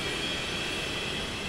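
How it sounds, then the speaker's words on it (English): The twin jet engines of a FlyJSim 732 airliner in the X-Plane flight simulator spool up, a steady, broad roaring whine with a high tonal edge, continuous and moderately loud. "Okay, we have engine start."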